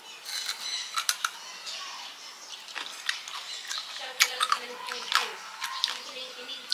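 Homemade tanghulu candied fruit being bitten and chewed, a series of sharp, brittle crunches and crackles, close and fairly faint, irregular over several seconds with soft voice sounds in between.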